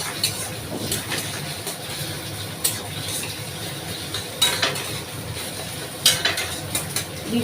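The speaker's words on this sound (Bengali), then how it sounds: "আমি ঝুড়ো ঝুড়ো করে ডিমটা ভেজে নেবো" Eggs fried in a pan and stirred into crumbly bits, giving a steady sizzle broken by scraping and clinks from the utensil, with no talking.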